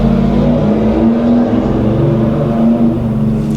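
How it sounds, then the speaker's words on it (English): A race car engine drones loud and close in a steady, low, rumbling tone that barely rises or falls, with no talk over it. "That was a race car, in case you were wondering."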